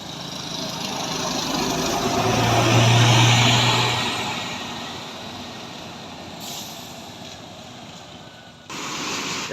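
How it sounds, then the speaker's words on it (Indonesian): A double-decker bus drives past on a badly damaged road in Aceh, its engine rumble and tyre roar swelling as it nears, then fading, with a sharp cut near the end. "Double decker nih"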